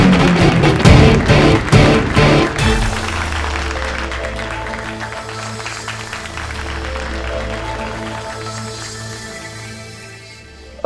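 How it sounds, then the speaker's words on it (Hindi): A studio audience claps loudly in a dense burst that gradually fades into a softer, thinning patter, with a low musical backing underneath and no voices. "इनके मुकाबले के लिए जोरदार तालियों से स्वागत करें।"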